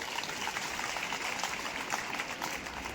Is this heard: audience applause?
yes